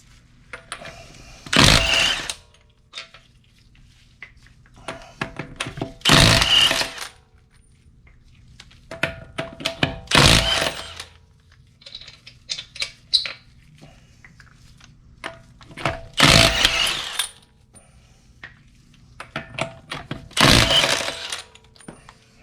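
An impact wrench spins off wheel lug nuts during a brake job, five loud rattling bursts of a second or so each, spaced a few seconds apart, with quieter clinks and handling noises between them.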